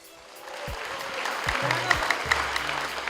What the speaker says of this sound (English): Round of applause for the second speaker of Vuna Bosco Secondary, Ignatius Ogobi.